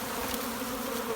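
Honeybees from a swarm being caught and shaken into a hive, a dense, steady buzzing of many bees close by with no pauses and no voices.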